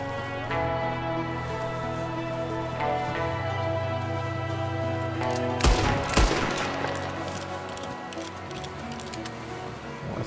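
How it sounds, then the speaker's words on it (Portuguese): A night gunfight against O'Driscoll gang members breaks out in Red Dead Redemption 2. A sudden burst of close gunshots crackles over a steady tonal score, then fades back into the music. "Foi o primeiro tiroteio."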